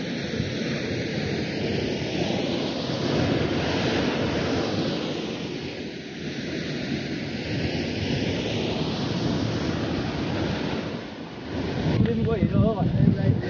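River water rushes steadily beneath a bridge, a continuous broadband roar with wind-like noise throughout, louder toward the end.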